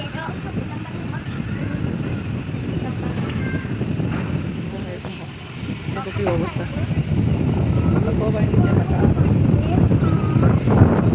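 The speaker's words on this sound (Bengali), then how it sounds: "হাওয়া উঠে গেল আকাশটা দেখো কত খারাপ করেছে" Strong wind roars and buffets the microphone continuously under a darkening pre-rain sky at dusk, a low rumbling rush that grows louder toward the end, with a person speaking briefly.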